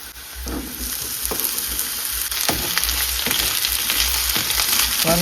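Potatoes sauté with onions in oil for a tuna fish curry, a loud steady sizzle close up with occasional stirring scrapes, no talking.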